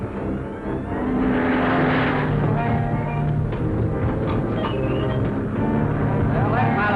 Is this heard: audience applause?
no